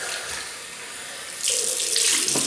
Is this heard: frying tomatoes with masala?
no